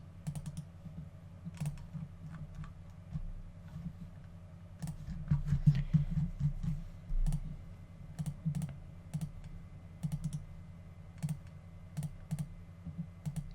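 Steady typing on a computer keyboard, close and clear, with irregular bursts of key clicks and a thicker flurry of fast keystrokes in the middle, with no talk.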